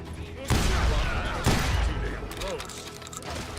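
Gunfire in the Call of Juarez Gunslinger video game, with two loud, heavy blasts about a second apart followed by scattered lighter shots and ringing debris, all close and sharp over a busy battle background.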